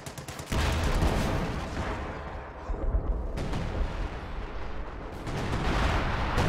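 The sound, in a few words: Pathfinder artillery barrage in a video game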